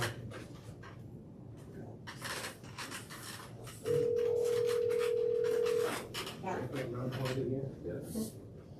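A telephone sounds during a town board meeting as one steady electronic tone lasting about two seconds over the room's background murmur and faint voices.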